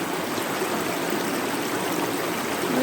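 Forest stream flowing steadily, a close, continuous broadband rush and trickle of water over rocks with no voices.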